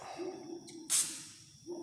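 A short, sharp burst of spray cleaner forced through a small carburetor jet from a Honda CRF150F, a close hiss lasting under a second between faint background noise.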